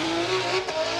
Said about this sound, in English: As Ken Gushi, very consistent with that exhaust note, Ryan, you can hear it.